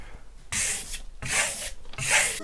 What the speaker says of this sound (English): now I'm going to burnish